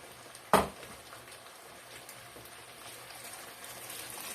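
Water poured into a hot pan of mushrooms and vegetables for pasta gives a sudden sharp hiss, then a faint, steady sizzle that continues quietly.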